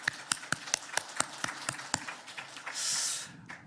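Sharp, evenly spaced claps ring out in a church during a worship service, a slow rhythmic series that thins out, followed by a brief hiss of noise near the end.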